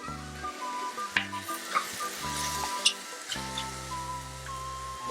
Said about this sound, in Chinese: 我们要不要微微把它炒到上色？